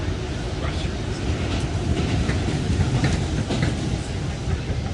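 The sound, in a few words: southbound New York subway train, Brooklyn-bound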